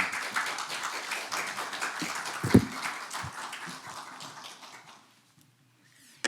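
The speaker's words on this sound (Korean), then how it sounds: "우리 세계 선교 침례교 성도들의 따뜻한 마음을 담아서 우리 박수로 환영해 주시기 바랍니다" A Baptist congregation at a dawn worship service applauds to welcome a missionary back from Laos, a dense wash of clapping that fills the room for about five seconds before fading to near silence.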